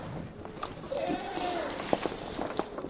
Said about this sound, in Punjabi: ਰੂਬੀ ਰੂਬੀ ਨੇ ਇੰਨੀਆਂ ਬੱਕਰੀਆਂ ਚੰਗਾਈਆਂ ਕਰਕੇ